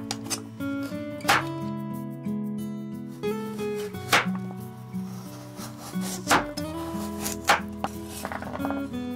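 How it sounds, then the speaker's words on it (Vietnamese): A knife cuts carrots into roughly 5 cm lengths and splits them into quarters on a board: sharp, spaced chopping thuds and rubbing slices, close, over a steady tonal musical background. "Sau đó cắt cà rốt thành từng đoạn khoảng 5 cm rồi chẻ làm tư."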